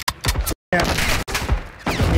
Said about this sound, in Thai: ปืนแรง AK